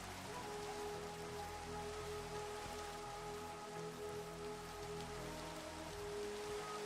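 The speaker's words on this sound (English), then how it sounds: "And now it's starting to rain." Rain falls steadily in Minecraft, modded with a Middle-earth update, as a continuous soft patter with faint tonal hums underneath and no voices.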